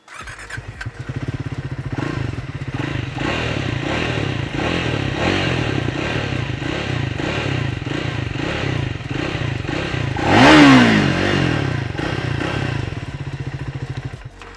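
A Triumph Speed 400 motorcycle engine idling with a steady, lumpy thump, then a sharp rev swells and falls back to idle, loud and close.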